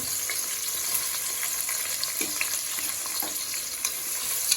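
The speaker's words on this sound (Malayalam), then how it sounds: "നെയ്യൊക്കെ ഇട്ട് ഞാൻ ഉള്ളി വറുത്തെടുക്കുകയാണ്." Onions fry in hot ghee in a pan with a steady, dense sizzle and crackle, punctuated by light stirring clicks, close and continuous without any voices.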